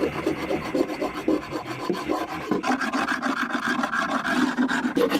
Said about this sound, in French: vous prenez votre lève-cadre du côté plat et là vous pouvez gratter aussi